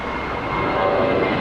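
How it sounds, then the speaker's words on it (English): A Lufthansa airliner taxis at Los Angeles International Airport, its engines giving off a steady, loud broadband roar and whine that holds without a break through the short stretch. "Lufthansa taxiing pretty quickly."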